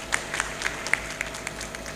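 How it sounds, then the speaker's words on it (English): An audience at a tax authority event claps for compliant taxpayers: a thin, faint spatter of hand claps comes in a loose, steady rhythm, with no voices over it. "A round of applause for them."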